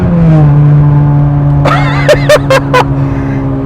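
A Honda Jazz fitted with a K20 Type-R engine drives along, its steady engine hum running loud and close throughout, with brief laughter and voices breaking in partway.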